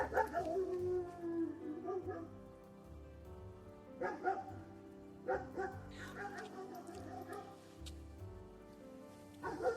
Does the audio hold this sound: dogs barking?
yes